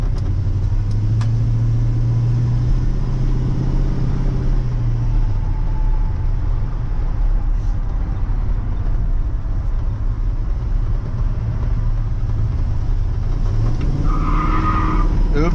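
An LS-swapped square body truck does its first burnout, a constant loud engine roar with tire squeal rising and falling over it the whole time, nearby and with no talk.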